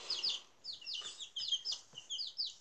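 Growing backyard chickens give quick, bright clucks and chirpy calls in an irregular run of short bursts, faint and fairly close, with no other noise around them.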